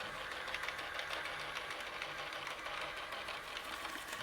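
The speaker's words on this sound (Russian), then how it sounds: "Вот такой вот робот-пылесос." An iLife robot vacuum cleaner running, giving a steady whirring motor hum with a faint mechanical rattle, even and moderately quiet throughout with no talk.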